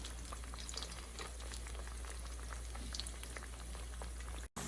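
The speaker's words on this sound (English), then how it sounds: "plantains into the oil. I'm going to leave that to deep fry until it's nice and brown" Plantains deep frying in a pot of oil, a steady low crackling bubble with scattered faint pops running unbroken, quiet and close, with a brief dropout near the end.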